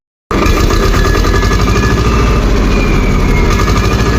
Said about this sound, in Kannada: ಟ್ರ್ಯಾಕ್ಟರ್ಗೆ ಡೀಸೆಲ್ ಒಂದು ಹಾಕೊಂಡು ಆದ್ಮೇಲೆ ಚಾಲು ಮಾಡಿ ಹತ್ರ ರೇಸ್ ಒಂದು ಮಾಡಾಕ್ತೇವೆ